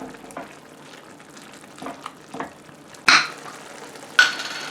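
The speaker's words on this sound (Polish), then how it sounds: "dużo zamieszam i jeszcze chwilę duszę" Peppered pork stirred and stewing in a pan: a low steady sizzle with soft scraping strokes, then two louder close scrapes near the end, no voices.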